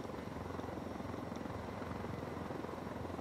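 Helicopter in the Ghost Recon Wildlands video game: a continuous, low rotor thrum with rapid steady chopping pulses, faint and even throughout with no talking.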